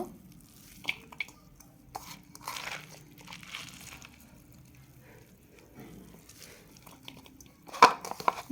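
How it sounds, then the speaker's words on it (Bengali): Salted cabbage squeezed by hand to press out its water, giving soft wet crunching and crinkling with faint dripping, quiet and close with no talk. "এবার পাতাকপিটা পানিটা চিপে নিব"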